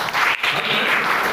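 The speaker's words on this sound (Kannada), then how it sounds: "ಜೋರು ಚಪ್ಪಾಳೆ." A crowd at a Rotary award ceremony bursts into loud, dense applause that holds steady throughout.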